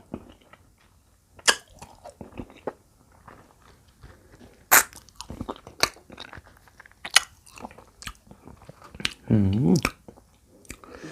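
Ripe tamarind is chewed up close, with irregular wet crunches, clicks and squishy bites scattered across the clip and a few louder snaps.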